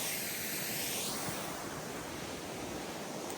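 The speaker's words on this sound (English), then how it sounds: "hey, why not go up here, check out the waterfall" A winter waterfall on a frozen river hike in Cape Breton, Nova Scotia, gives a steady, loud, broadband rush of falling water that never lets up, close by and with no voices over it.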